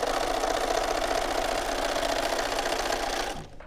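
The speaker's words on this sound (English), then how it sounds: "Okay, next I'll sew this." A sewing machine runs steadily as it stitches a quilt, giving a continuous mechanical hum and rapid whir that holds even and loud, then stops abruptly near the end.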